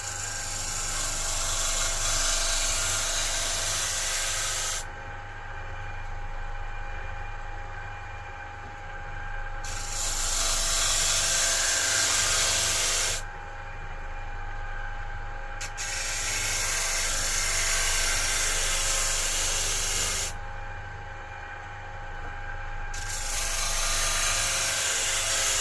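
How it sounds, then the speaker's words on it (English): Electric sander flattening pieces for a honeycomb isolation table, a steady loud whirring grind that cuts in and out in several bursts of a few seconds each, with a constant low hum between passes. "On the sander over there, I'm just going to, just so I can get them nice and flat."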